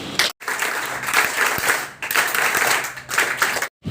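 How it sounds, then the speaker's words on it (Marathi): A school group claps together in three bursts of applause, each burst a dense patter of many hands, separated by short silent gaps, loud and close. "आपण सर्वजण तीन टाळ्या वाजवूया"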